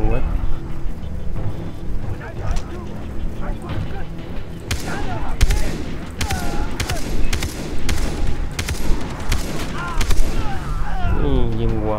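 Gunfire in the video game Far Cry 3: rapid bursts of sharp shots repeat over a steady rumble of engine and ambient game noise, while someone talks excitedly throughout.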